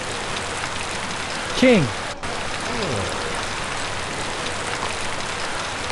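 Steady rain falls as a soft, even wash throughout a Dr. Seuss story app, while a narrator speaks over it and a brief gliding tone rises and falls near the start.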